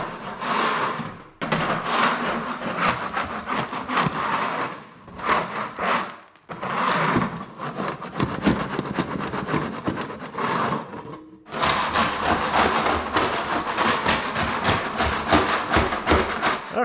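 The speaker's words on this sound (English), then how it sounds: "I'm going to start just going around with the scraper, scraping up as much gunk as I can" A hand scraper scrapes old gunk off a wooden subfloor before a hardwood install, in loud, rough, rhythmic strokes. Several long runs are broken by short pauses. No one speaks.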